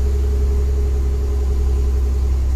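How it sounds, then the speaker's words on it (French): A car engine running at low revs in second gear, a steady loud rumbling drone with a constant hum, no voices. "Je sais pas si vous entendez le moteur."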